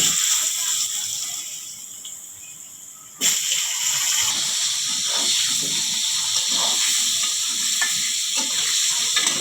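Cut potatoes hit hot oil with cumin seeds, bursting into a loud, steady sizzle that jumps up suddenly and then hisses on continuously, close and alone without talk.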